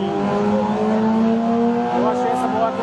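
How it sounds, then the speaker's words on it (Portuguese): A 1977 Honda CB550 motorcycle engine revs close by in short, loud bursts, its pitch rising and falling. There is no talk over it. "essa moto é uma CB550, boa, ano 1977"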